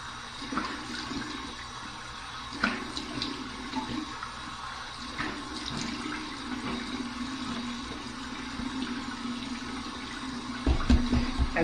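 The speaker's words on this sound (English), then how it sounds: "here's my cold water rinse" Cold water runs steadily from a bathroom tap into a sink during a shave rinse, a continuous splashing flow with a few small knocks and a louder splash near the end.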